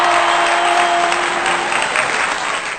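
A loud burst of audience applause from a studio comedy show crowd, steady and dense clapping that fades slightly toward the end.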